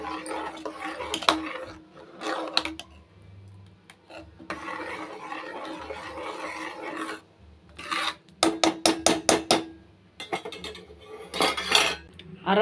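A metal spoon stirs and scrapes moong dal payasam in a pot in a home kitchen. Bursts of clinking and rasping come close up and alternate with quiet pauses, and a quick run of sharp taps sounds near the end.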